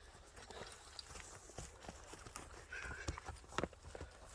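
Horse hooves walking outdoors, a series of clip-clop steps in an uneven rhythm over low background noise, loudest near the end.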